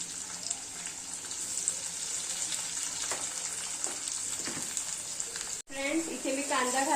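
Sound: chopped onion frying in hot oil with bay leaf

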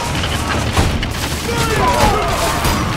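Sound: volley fired in video game Ryse: Son of Rome

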